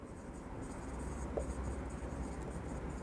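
Pen scratching on paper, faint and close, a soft continuous scraping with small strokes during an accounts lesson.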